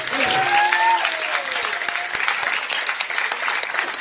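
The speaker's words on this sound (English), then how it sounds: "big applause" Loud, dense audience applause fills a gala hall during a magic act, steady clapping throughout with a few brief tonal voice sounds rising over it.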